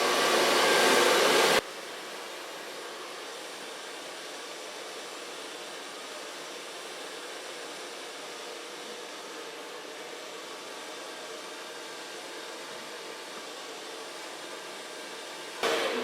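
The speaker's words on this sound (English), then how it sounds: "Now so far blow drying" A hair dryer blows on short pixie-cut hair as a steady, even whoosh that holds for about fourteen seconds. A louder burst comes at the start and again at the very end, with no talking.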